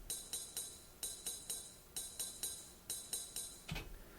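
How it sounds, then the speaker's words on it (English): A straight eighth-note ride cymbal part played back from a sequencer: bright, even metallic pings in a steady groove, with a heavier accented hit near the end, heard alone. "listen to this straight 8th note ride cymbal part."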